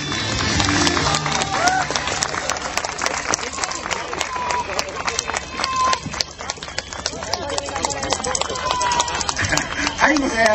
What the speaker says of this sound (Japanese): 大きな拍手をどうぞ。